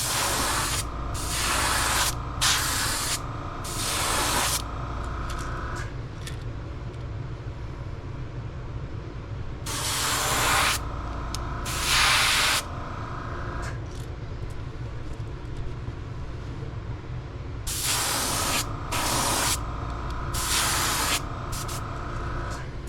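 Airbrush spray laying a second coat of paint onto a fishing lure, heard as several distinct hissing bursts of a few seconds each, close up, separated by quieter pauses with a steady low background hum.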